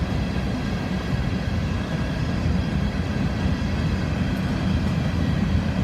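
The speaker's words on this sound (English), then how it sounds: "These are empty coal hoppers, which hints why." Long freight train of empty coal hoppers with distributed power units rolling past on the Florida S-Line, a steady, loud, broadband rumble and rattle of wheels and cars continuing throughout without letup.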